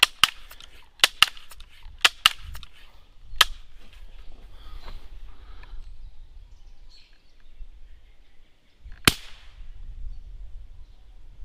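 Sharp spring-piston shots from a Winchester 1977 XS air rifle crack out outdoors, a quick irregular burst of several near shots followed after a pause by one more loud report, with faint background hiss between them.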